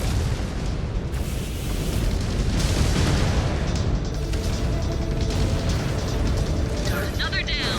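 Missile explosions in the mech combat game Mechwarrior Clans, heavy booming blasts rolling over a continuous rumbling battle din, with a voice speaking over part of it.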